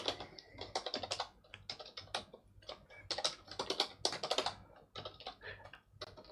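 Rapid bursts of keystrokes on a computer keyboard, close and clicky, typed in short uneven runs with brief pauses while entering a password during an Ubuntu server install.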